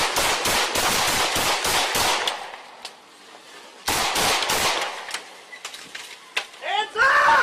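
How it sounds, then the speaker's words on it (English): A burst of rapid gunshots rings out during a police shootout outside a parking lot, two loud volleys of closely spaced cracks separated by a lull, followed by shouted voices and a siren-like wail at the end. "Shots fired!"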